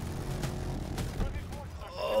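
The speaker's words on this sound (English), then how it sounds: "Oh, the 50 cal hit him." A .50 caliber machine gun firing in the Battlefield video game, giving a few sharp, punchy bursts in quick succession amid other game noise, moderately loud.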